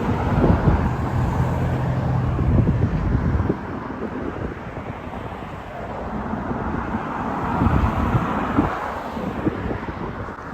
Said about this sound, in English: loud, car-infested street with businesses and really ugly buildings, and still a super narrow sidewalk